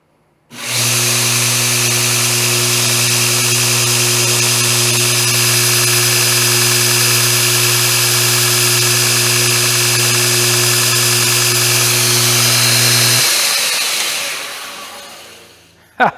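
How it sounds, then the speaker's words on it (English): Heavy-duty homemade 2x72 belt grinder running free, a loud steady motor hum and belt whine that holds constant, then spins down and fades as it is switched off. "So there we have the old belt grinder."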